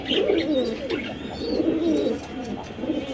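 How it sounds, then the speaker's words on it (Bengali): Fancy pigeons coo continuously at close range, low throaty warbling calls overlapping one another, with faint chirps in the background. "দর্শক আমরা যদি একটু কবুতর ডাকটা দেখা দিই"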